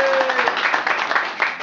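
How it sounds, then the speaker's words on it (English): A crowd at a Riddick Bowe Muay Thai press conference applauds a promoter with steady, dense clapping that holds close and loud throughout, with some voices mixed in. "give him a big round of applause"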